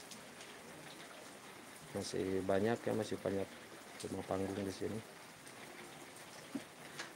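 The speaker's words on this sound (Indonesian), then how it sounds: "Kalau hujan begini nonton TV terus gak ada lagi sih aktivitas" Steady rain falls over a village of stilt houses, a continuous soft hiss of drops beneath a person talking in the foreground.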